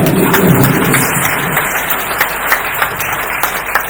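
An audience claps at a Christian youth reunion gathering in Atauro, Timor-Leste, loud and dense at first, then thinning into scattered individual claps toward the end.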